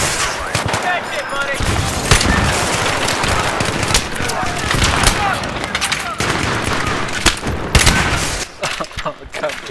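Dense gunfire from a Battlefield 3 multiplayer match, with bursts of automatic and single shots crackling continuously and loudly throughout, under intermittent player talk.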